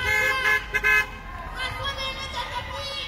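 A car horn toots a few short times close by at a street protest in Sherbrooke, then sustained honking mixed with traffic, while people talk over it.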